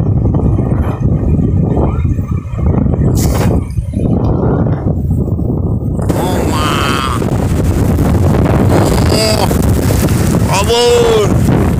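Strong west wind storm at sea on a fishing boat: steady roaring wind buffets the microphone over rushing water, loud and continuous throughout, with a voice speaking over it in the latter half.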